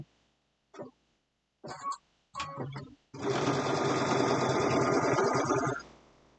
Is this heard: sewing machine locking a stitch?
yes